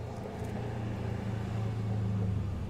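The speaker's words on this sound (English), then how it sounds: "Boy, the traffic is, like," Heavy road traffic passing outside, a steady low rumble of cars that swells gently and holds at a constant moderate level with no voices.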